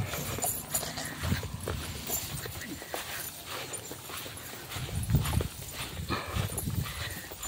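Horse hooves clip-clopping at a walk along a rough rural path in Tayabas, Quezon, an uneven rhythm of moderate knocks, with a dog audible in the background.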